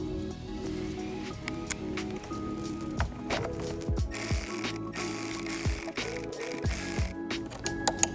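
A ratchet wrench clicks in quick bursts, loosening and then tightening the battery terminal bolts on a 2019+ Jeep Wrangler JL. The close, dry clicking is heard alone, with short pauses between strokes.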